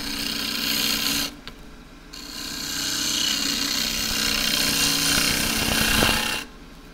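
Woodturning gouge cutting a loquat wood plate turned from a short board on a lathe, a steady loud broadband scraping hiss with brief pauses as the tool lifts from the spinning wood, no talk.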